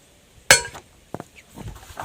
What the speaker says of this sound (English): So I'm going to try to tap it this way.